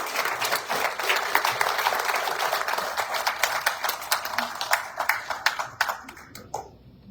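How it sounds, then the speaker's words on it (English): An audience at a Fort Scott Area Chamber primary election candidate forum claps for the candidates, dense, loud steady applause from a room full of people that thins out and fades near the end. "Let's give these candidates a round of applause"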